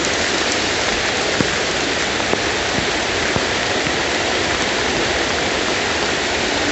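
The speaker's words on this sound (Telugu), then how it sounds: "చాలా వర్షం పడుతుంది" Heavy rain pours down in a dense, unbroken hiss, with occasional sharper drops landing nearby and no voices.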